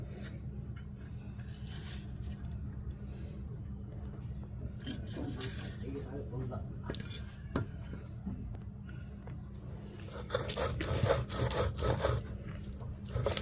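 Fried pointed gourd being ground on a shil-pata grinding stone: a close, continuous rough scraping and rubbing of stone on stone, with strokes intensifying toward the end.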